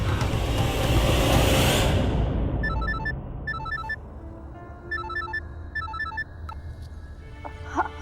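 Mobile phone ringing with an incoming call, a bright electronic ringtone repeating in short bursts after a passing vehicle fades out, fairly clear and close.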